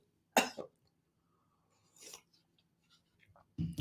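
Two sharp coughs close to the mic, one near the start and one midway, followed by a third burst at the end, with quiet gaps between.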